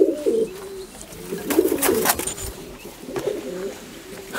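A black Jacobin breeder pair of pigeons coos in low, repeated throaty phrases close by, with a few brief rustles and flutters between the calls.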